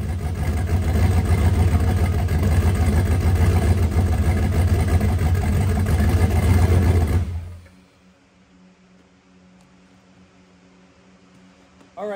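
A no-prep race car engine that is losing oil pressure idles roughly with a loud, uneven, broadband churn. After about seven seconds it cuts off abruptly, leaving near silence.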